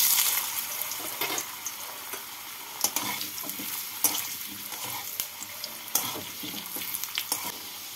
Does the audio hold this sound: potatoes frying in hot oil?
yes